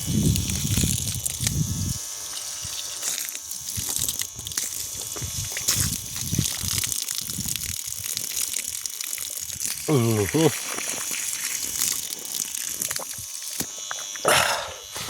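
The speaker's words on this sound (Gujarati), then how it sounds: "પહેલાં થોડુંક પાણી નીચે જતા રહેવા દઈએ, પછી પાણી પી લેવી।" Water gushes and splashes steadily from a farm pipe, a continuous rushing stream with brief voices and a few mechanical noises mixed in.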